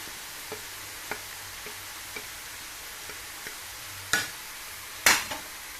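Fish being stirred in a frying pan, a soft sizzle under a series of light, evenly spaced utensil taps, ending in two louder scraping clatters, no talking.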